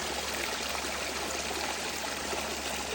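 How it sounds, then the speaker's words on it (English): Spring water flows out from beneath a mountain in a steady, close rushing stream, a continuous broadband babble that stays even and unbroken, with no voices. "So this is a spring right here coming from underneath the mountain."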